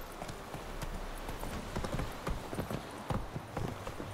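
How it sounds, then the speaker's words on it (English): Horse hooves clip-clop steadily in The Witcher 3 video game, a brisk, even trotting rhythm of close, crisp hoof strikes over a constant background bed, with no voices. "All of my horses are the best."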